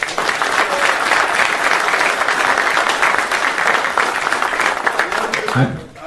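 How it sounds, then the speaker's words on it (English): Crowd applause erupts for a college football wide receiver at a Colorado gathering, sustained and loud for several seconds, mixed with some cheering voices before fading out at the end. "Let's clap it up for him."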